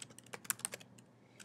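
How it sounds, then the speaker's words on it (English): Keys clatter on a computer keyboard as an email address is typed, a quick irregular run of light, close clicks with a short pause near the end. "So I'm typing in the email address"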